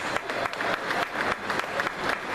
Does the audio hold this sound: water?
no